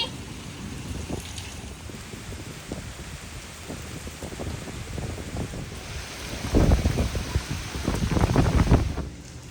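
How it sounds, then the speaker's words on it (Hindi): Heavy rain lashes a village in strong, gusting wind, a steady broadband roar that swells louder near the end, with no voices. "सिर्फ बारिश नहीं, बारिश के साथ साथ तेज़ हवा भी है।"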